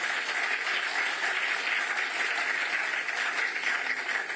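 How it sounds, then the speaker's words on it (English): An audience at a leadership lecture on power sector solutions gives a sustained round of applause, a dense, even clatter of many hands that carries on throughout without any voices. "give him a resounding round of applause"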